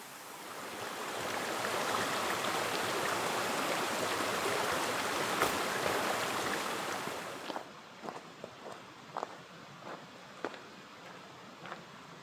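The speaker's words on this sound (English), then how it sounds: "We have an irrigation flume right here, moving water around the property from the little creek" A creek-fed irrigation flume on a canyon ranch gives a steady rushing of flowing water. It fades out after about eight seconds, leaving quiet surroundings with a few scattered footsteps.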